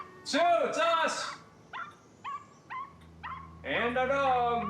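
Dogs barking and yipping at a house doorstep: a few high excited barks, then short sharp yaps spaced out, ending in a longer burst of barking, close and fairly loud.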